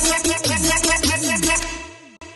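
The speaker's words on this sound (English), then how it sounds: "So the lead sounds like this." Main lead synth from a festival trap track plays a dense, bright line with gliding, bending pitches and steady driving low end, loud and continuous for about two seconds before a brief drop and a short return.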